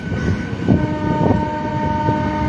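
A train pulls into Krishnanagar station on the newly opened Amghata–Krishnanagar line, a steady loud rumble of wheels and engine with a sustained horn-like tone running through it, close by and with no voices.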